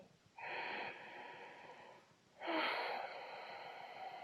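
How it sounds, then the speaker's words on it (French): Two ujjayi breaths during a vinyasa yoga session, each a long, close, breathy exhale through the nose with a constricted throat, giving a soft oceanic hiss, the second louder than the first. "Un son un petit peu océanique va se dégager de votre arrière-gorge. Et ça, c'est la respiration Ujjayi."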